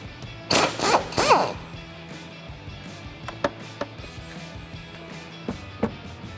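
Wrench loosening and pulling the last strut bolt on a 2015-2019 Mustang, starting with a few loud bursts of ratcheting and metal clatter, then leaving sparse faint clicks and taps spaced across the quiet remainder.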